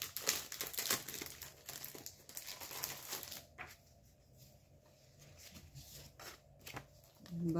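Designer papers are handled and rustled up close, giving crisp crinkling and shuffling that fades to quieter handling midway and then picks up again.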